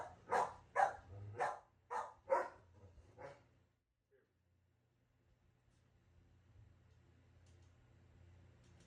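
A pet dog barks six times in a fast, loud series of sharp woofs close by, then goes quiet, leaving only faint soft whimpering and low room noise.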